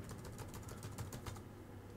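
Keys on a Lenovo Legion 5 Pro laptop with a faulty keyboard are pressed in a quick run of soft, close clicks over a steady low hum, tapering off near the end.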